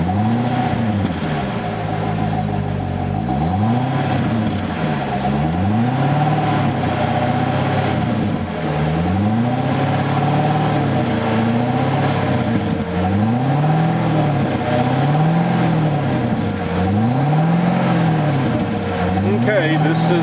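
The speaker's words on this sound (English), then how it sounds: "And now I'm about to rev it." A Corvette with its stock exhaust revs repeatedly from idle: a loud, close engine climbing and falling in several rising sweeps over a steady rumble, with no talk during the revs.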